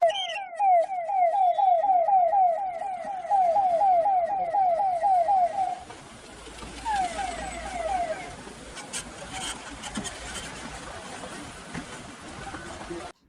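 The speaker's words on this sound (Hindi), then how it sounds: "ये है आरएसएस के मुखिया मोहन भागवत का काफिला," The convoy of the RSS chief passes with loud wailing sirens, near and dominant for several seconds before the siren tones fade and road noise with vehicle rumble takes over.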